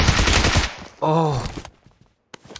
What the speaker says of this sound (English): I hate that fucking shotgun